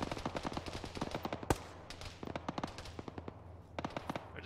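Gunfire cracks through a ShackTac session of ArmA, rapid bursts of sharp shots in quick rhythm with one louder close bang, a brief lull, then further volleys, no voices over them.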